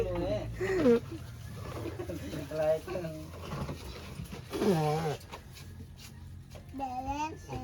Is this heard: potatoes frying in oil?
no